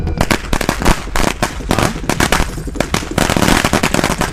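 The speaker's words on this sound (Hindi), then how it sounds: "अरे एरिया में पटाखा कौन फोड़ रहा है रे?" Rapid, loud bursts of firecrackers popping in dense, irregular volleys, crackling continuously with no pauses.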